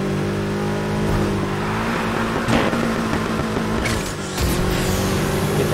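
Car engine in the racing video game Need for Speed Heat, held at a steady high rev with a harmonic whine through drifting, brief dips and surges around gear shifts and tire slides, loud and continuous with no talk.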